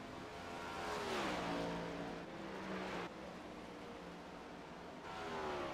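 Race cars in a Scrambler Series short-track race at Nashville rev and pass, engines sweeping up and down in pitch, moderately loud and continuous with a car fading and another rising near the end.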